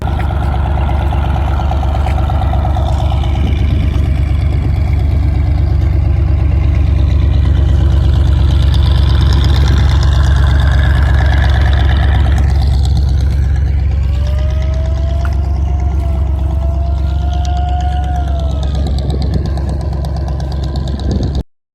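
Engine of a boat crossing the Buriganga river, a loud steady low throbbing drone running throughout, with faint higher tones and a brief whine from other sounds on the water drifting over it.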